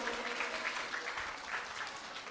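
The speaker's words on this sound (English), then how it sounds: "you give her a round of applause too?" Audience applause at a morning summer gathering of nuns, monks and families, dense clapping held at a fairly even level throughout the short stretch, with no talk over it.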